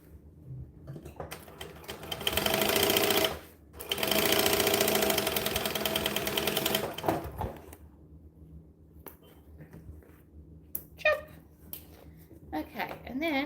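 A sewing machine stitches bag pieces in two loud, steady runs separated by a brief pause. It then falls quiet, leaving light handling clicks and a soft voice in the background.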